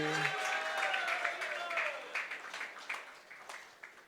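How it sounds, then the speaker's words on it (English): An audience at a youth religious quiz event applauds a prize winner. The clapping starts fuller and thins into scattered claps as a voice fades out at the start. "A big round of applause for Ravi."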